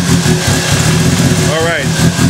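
A race car engine, prepped for a shootout, runs steadily close by with a dense, rumbling drone and a brief rising chirp near the end, with voices over it.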